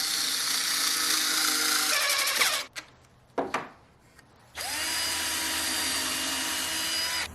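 A power drill drives a 3-inch screw into the end grain of old farmhouse door wood, with a loud sustained whir, a short pause with a few clicks and bumps, then a second long steady run of the drill.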